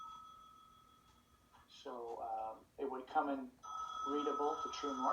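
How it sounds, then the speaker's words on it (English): A telephone rings during a lecture, a steady electronic ring that runs through most of the clip beneath the lecturer's continuing talk. "Sorry about the phone"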